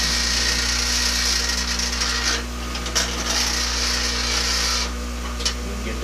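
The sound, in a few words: grinding stone wheel rattling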